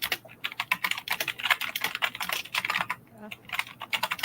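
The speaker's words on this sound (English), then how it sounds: "Someone is typing furiously." Rapid, continuous clatter of keys on a computer keyboard, typed fast and hard from an unmuted microphone during an online talk show, with brief gaps between dense bursts.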